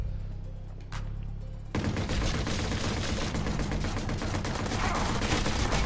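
Rapid automatic gunfire from the video game Watch Dogs, bursting in loud and dense after a brief quieter start and continuing steadily to the end.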